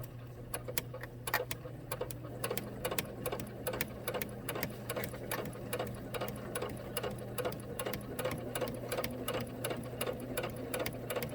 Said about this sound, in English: you just want to stitch all the way around up here